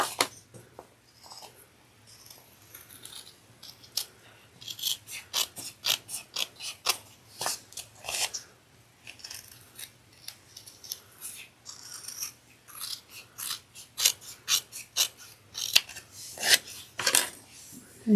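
Scissors trim fabric to fit a sewn pocket, with repeated crisp snipping bursts in irregular clusters and quiet pauses between them.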